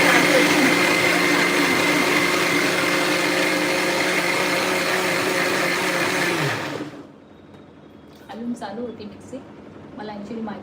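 A kitchen mixer grinder whirs loudly and steadily as it grinds dosa batter for about seven seconds, then cuts off abruptly, leaving quiet room tone and a voice speaking afterward.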